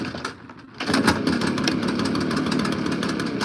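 A Honda lawn mower engine, stalled while cutting leaves in snow, sputters quietly and then steadies into a loud, continuous idle with a close, even engine drone.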